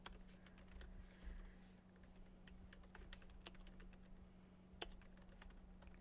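Quick, irregular keystrokes on a computer keyboard while working in CAD software; soft clicks rattle along continuously over a low steady hum, fairly close.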